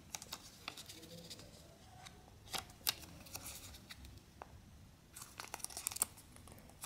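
Sheets of paper being folded for origami, giving soft crinkles and light papery taps that come in scattered bursts, close but faint, with no talking.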